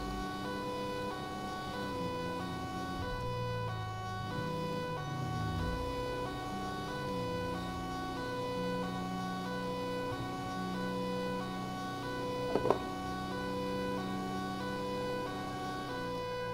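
A fire engine siren in the video game GTA 5 wails continuously with steady rising and falling tones over a low rumble of traffic and engine noise, loud and close the whole time.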